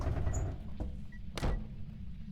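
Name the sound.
door in Phasmophobia video game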